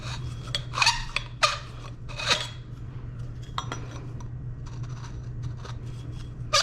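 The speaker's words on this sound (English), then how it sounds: "Now we're gonna deburr the inside and outside of the pipes." A deburring tool scrapes the inside and outside edges of freshly cut pipes during work on a commercial four-pipe fan coil unit. It makes close, gritty rasping strokes in short irregular bursts over a low steady hum.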